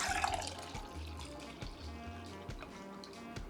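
Coconut milk pours into a measuring cup in a home kitchen while cooking shrimp Alfredo, giving a soft continuous liquid trickle with a few small splashes and clinks, close and moderately quiet, with no talking.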